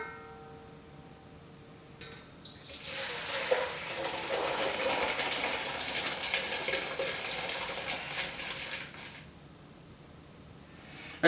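Hot cooked beans and their juice poured from one bowl into another, a steady wet gushing pour that starts after a couple of seconds, runs for about seven seconds at moderate loudness, then stops.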